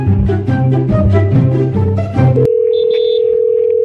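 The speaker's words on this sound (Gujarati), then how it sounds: "પેલા લાલાને ફોન કરો" After a burst of music, a telephone dial tone sounds while a call is being placed: a steady, clear, unbroken tone that holds alone for over a second.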